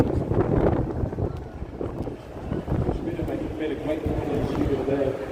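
Steady wind buffets the microphone outdoors beside the East River in Brooklyn Bridge Park, a continuous low roar that swells and eases under a crowd of people talking.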